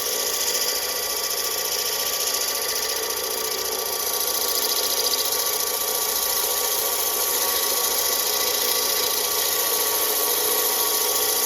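Steady, loud, continuous grinding drone of a vertical intarsia diamond grinder as a stone piece is held flat against the rotating diamond wheel, running unbroken throughout with no voices.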